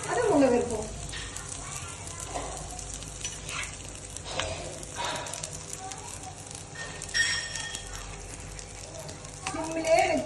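Beetroot chapathi stuffed with potato roasting in ghee on a pan over low heat gives a steady soft sizzle throughout, with occasional scrapes and stirring clatter as it is turned.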